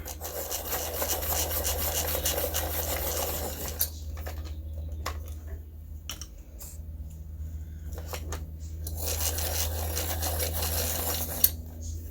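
Colouring pencils are sharpened in repeated scraping bursts, a dry raspy grinding heard close up that stops and starts, with short pauses between spells and no talking.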